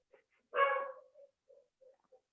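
A single dog, named Odino, gives one clear bark at a moderate distance, followed by a few faint, short yips or whimpers in a quiet room.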